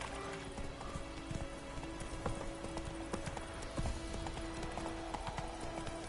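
Roach, Geralt's horse in The Witcher 3, trots at a steady pace, with a continuous clip-clop of hooves close by over a low, sustained ambient bed of game music.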